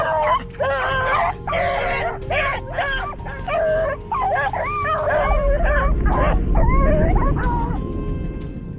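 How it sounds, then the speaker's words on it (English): Hunting dogs wearing GPS collars yelp, whine and yip in rapid overlapping bursts on a wild boar hunt, over a steady low rumble that swells toward the end. "you'll witness powerful hunting dogs equipped with GPS collars"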